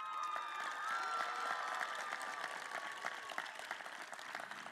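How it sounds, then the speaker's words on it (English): A graduation audience breaks into steady applause for families and friends, a broad wash of clapping with scattered cheers and a few shouts, fairly distant and even from start to finish. "I think they deserve an outstanding round of applause"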